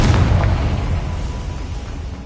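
A Confringo blasting spell in Hogwarts Legacy detonates with a loud, close boom, a single heavy explosion whose rumbling tail slowly fades away.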